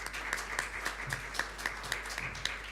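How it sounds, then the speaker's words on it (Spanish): Audience applause for panelists at an education policy seminar in Chile, a steady spatter of claps with regular sharper hand claps standing out, moderately distant in a large room, with no talking. "Un aplauso, por favor."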